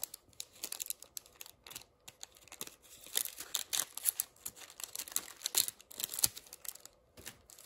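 An Animal Crossing amiibo card pack is torn open by hand, with quiet close crinkling and tearing of the foil wrapper in irregular bursts and small rustles, no talk.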